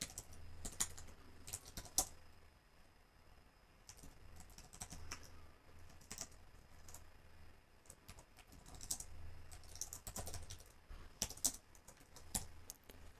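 Steady typing on a computer keyboard, with quick irregular bursts of close, light key clicks running throughout and short pauses between runs, and no voices.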